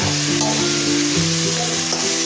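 Chatpati greens fry in a pan with a loud, steady sizzle, while faint tonal hums drift underneath and a couple of brief scraping stirs break through.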